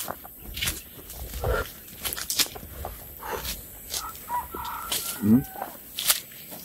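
Chickens cluck and a rooster crows now and then outdoors amid rustling and footsteps, faint and mixed with background noise, with no talking.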